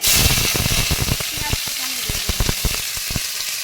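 Whole spices (green cardamom, cloves, cinnamon stick, a bay leaf and a dried red chilli) frying in hot oil, giving a steady, close sizzle broken by frequent sharp pops and crackles.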